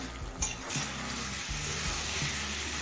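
Vegetable filling for savoury patishapta pitha, sweetened with a spoon of sugar, cooks on a high flame to dry off its water, giving a steady close sizzle and hiss with a few soft stirring knocks.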